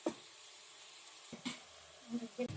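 Freshly ground masala paste fries in a pan with coriander and mint leaves for soya biryani, giving a steady, soft sizzle broken by a few clinks and scrapes of stirring.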